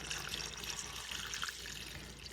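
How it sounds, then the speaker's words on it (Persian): Water pouring into a pot of braised meat for a home-style Arabic mafatah, a continuous splashing, gurgling stream, close and steady, without speech. "حالا میخوام در مرحله آخر آب رو اضافه کنم"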